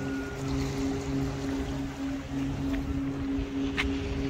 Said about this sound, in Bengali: আর এদিকে মাছ ধরা ওর স্পিড বোট